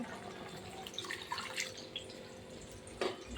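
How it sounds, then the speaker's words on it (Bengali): Water pours into a pot of mung dal cooked with a hilsa fish head, a continuous soft splashing and trickling with a brief louder splash near the end. "এবার আমি জল দিয়ে দিচ্ছি।"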